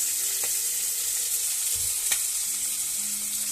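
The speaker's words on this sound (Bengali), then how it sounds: "সবজিটা ফ্রাই করবে ফ্রাই করে নেবে কড়াইতে" Vegetables sizzle in a hot kadai for vegetable chowmein, a steady close hiss of frying broken by a few soft knocks and scrapes of stirring, with no voices.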